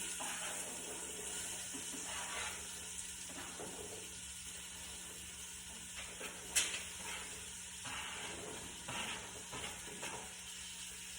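Chopped sweet onion sizzles steadily in hot oil in a home kitchen pan, a soft continuous frying hiss with occasional faint stirring clatter and one brief sharp click.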